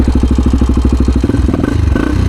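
Close, loud 1996 Honda XR250 dirt bike engine, not fully warmed up, chugging with a rapid uneven putter, sputtering and rising slightly near the end.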